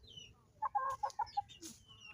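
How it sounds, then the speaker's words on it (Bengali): Several short, distinct clucks from free-ranging desi hens in a quick irregular series, fairly close, over a low background hum on a sunny day; no talking. "এই যেগুলো হচ্ছে আমার মুরগি এই যে সকাল থেকে আমার পিছনে পিছনে করতে আছে"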